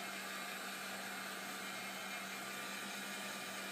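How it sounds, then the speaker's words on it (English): A heat tool blowing hot air over glaze paint in a mixed media painting, a steady close hiss and whirring drone that holds evenly without pause. "when you're using the heat tool on the glaze, you want to make sure that you're not staying on it too long"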